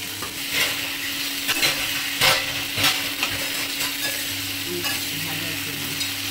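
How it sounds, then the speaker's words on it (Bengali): Potatoes fry in hot oil with black cumin and dried red chilli while a spatula stirs them. A loud, constant sizzle is broken by repeated scraping strokes and knocks against the pan, with a faint hum underneath. "আলুগুলো দিয়ে এবার একটু ভেজে নেবো।"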